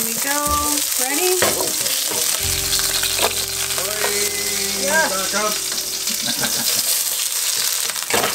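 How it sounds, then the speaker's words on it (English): Turkey burger patties for a patty melt sizzle steadily in a hot pan, with a louder burst of frying as they are flipped, plus utensil scrapes and a few brief voices over the crackle. "That's to flip the burgers."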